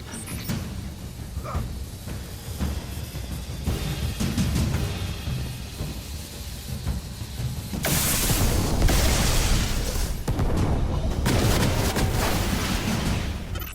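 An unstable Golden Age reactor infested with SIVA blows up in Destiny. Low rumbling and mechanical clatter build beneath a busy soundscape, then break into a louder, broad roaring burst that rolls on with scattered booms.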